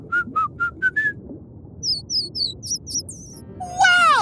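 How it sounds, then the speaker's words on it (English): Dolphin signature whistles in an underwater setting: a row of five short, clear tonal whistles, then higher chirps and a bright, sweeping whistle burst at the end, all over a low murmur of water noise. "Dolphins communicate with their signature whistles and chirps."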